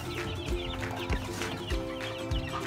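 Chicks and hens cluck and chatter close by as they are fed in front of a house, with several soft thumping knocks at regular intervals.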